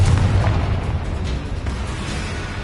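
Confringo blasting spell in a Harry Potter duel, a loud low boom at the start that rumbles and decays into a lingering crackling roar.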